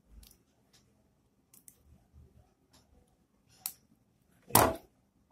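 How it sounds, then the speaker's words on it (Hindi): Scissors snip through wire or LED strip while a DIY parking LED light is being built. A few faint clicks lead up to two sharp, close cuts, the last one loudest, with no talking. "काट देते हैं।"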